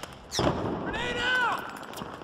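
Grenade blast in Battlefield 3, a single sharp explosion followed by a brief rumbling tail, with a voice and game noise around it.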